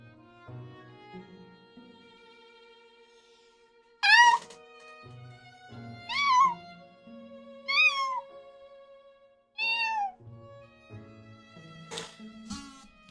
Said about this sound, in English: They're making cat noises.